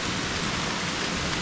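Steady rain pours down outdoors during a morning check of fish traps, a dense even hiss with no pauses and no voices, close and loud throughout.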